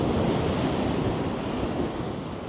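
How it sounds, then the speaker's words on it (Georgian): Sea waves roll onto an Albanian beach in a steady, full wash of surf, loud and close, with some wind buffeting the microphone. "და ტალღები ნახეთ რა ხდება"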